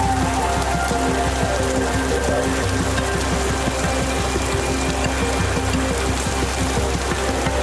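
Steady rain pattering on a hard surface, dense and continuous, with a low rumbling hum beneath it and no pauses.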